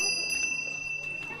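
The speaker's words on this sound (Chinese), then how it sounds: "铃铛响起" A door bell rings as the door into a Tibetan-style courtyard house in Lincang is pushed open, giving thin, sustained metallic ringing tones that hold steady over soft background noise.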